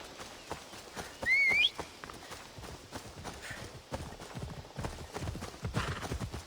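Horse hooves clip-clopping in Assassin's Creed Odyssey, a steady close rhythmic beat with a brief whistle early on, continuing without speech.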